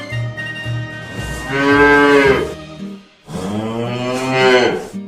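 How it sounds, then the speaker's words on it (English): A bull moos twice, each call a long, loud, close bellow that swells and fades, with a short gap between them. "Bull."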